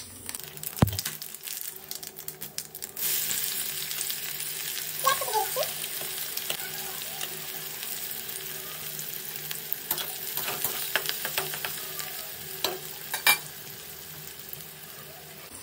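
Onions sizzle steadily in hot oil in a pan while being cooked for chicken kosa curry, with scraping stirs and occasional clacks of a utensil against the pan over a constant frying hiss.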